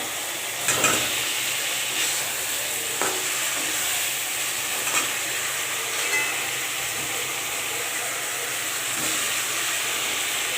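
Potatoes for dum aloo fry in hot oil, giving a steady broadband sizzle throughout, with a few soft scraping stirs of a spatula standing out now and then. Close and continuous, with no talking.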